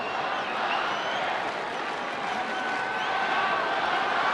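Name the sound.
baseball crowd cheering at Petco Park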